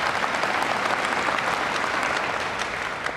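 Steady audience applause fills a live evening talk with Richard Dawkins in a hall, a dense continuous wash of many hands clapping at even loudness from start to end.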